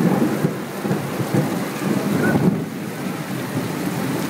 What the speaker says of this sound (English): It's rain and water. Oh, and lightning too.